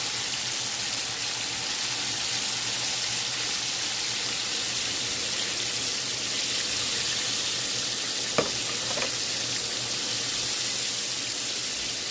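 Chicken browning in a pan sizzles steadily and loudly for the whole stretch, with a couple of faint clinks partway through and no voices.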